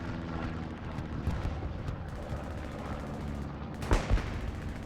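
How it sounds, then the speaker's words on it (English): Artillery shells pound Omaha Beach in Hell Let Loose, a rumbling wartime barrage with scattered crackling shots and a louder pair of blasts near the end. "Very nice bombardment here by Pathfinders."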